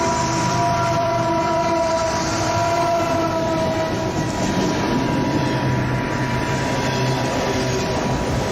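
A train rolling past, heard in a music video: a steady, loud rumble of railcars with sustained horn-like tones running throughout, continuous and close, with no talking.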